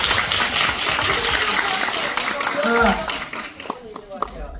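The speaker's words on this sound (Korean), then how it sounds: "우리 박수 한번 부탁드리겠습니다." A crowd applauds at a Korean film screening and guest event for The Killers, with dense, steady clapping filling the room for about three seconds before it fades and a voice begins speaking.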